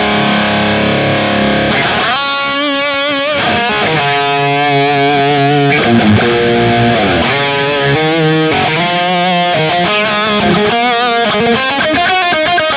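A distorted electric guitar through a Kemper amp with a boost added plays a run of sustained chords and riffs, thick with boosted saturation, loud and alone.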